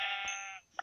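Sheep bleating in a Minecraft-style survival video game, one steady wavering bleat followed by a short second call, clear and close with no talk.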